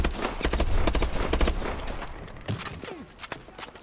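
Rapid bursts of automatic gunfire crackle in Call of Duty Advanced Warfare, a dense fusillade up close that thins into scattered single shots toward the end.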